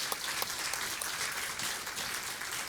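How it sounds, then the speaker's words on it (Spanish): Congregation clapping at a New Year church service, a soft, steady round of applause from a gathered group, fairly distant and even throughout. "por favor, gran aplauso, ¿no? Para Bolivia,"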